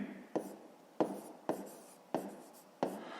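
Pen or pencil writing out the answer to a fifth-grade math division problem, heard as five short scratchy strokes spaced about half a second apart, close and quiet.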